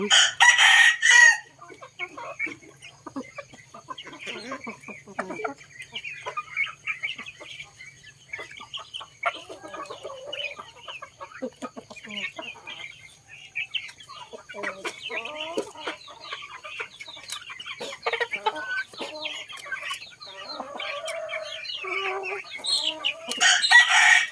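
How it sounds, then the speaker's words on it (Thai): Free-range village chickens on a family farm, with ducks kept nearby after days of heavy rain: hens cluck steadily and roosters crow repeatedly, close and fairly loud, with a voice talking faintly now and then. "การเลี้ยงไก่ของยาย"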